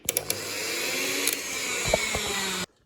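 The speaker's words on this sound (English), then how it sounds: "Now we use the stand mixer." A stand mixer whirs steadily while mixing banana cake batter of banana, butter and milk, a loud even motor drone with a few clicks at the start and a sudden stop near the end.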